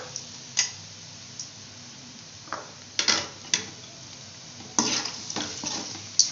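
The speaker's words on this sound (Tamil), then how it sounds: "நல்லா சிக்கனையும் நல்லா கலந்து விட்டுக்குங்க" Chicken pieces being stirred and fried in a pan for chicken rice, with scattered scraping clicks of a spoon against the pan over a faint, steady sizzle, alone without talk.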